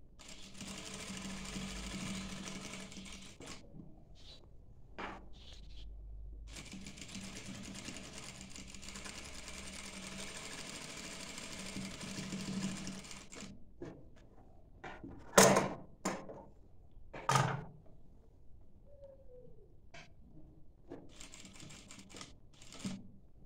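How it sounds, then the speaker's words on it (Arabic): A sewing machine stitches a dishdasha in sustained runs of rapid humming chatter, pausing between them, followed by sharp clicks and knocks of fabric and machine handling nearby. "نرجع نخيط عليها مرة ثانية"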